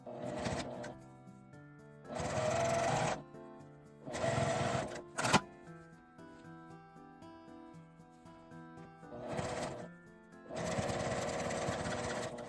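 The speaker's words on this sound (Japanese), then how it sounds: "反対側も同じように折って5ミリくらいを縫います。" A sewing machine stitches a fabric makeup bag, running in four loud bursts of steady rapid stitching separated by pauses with quiet background music.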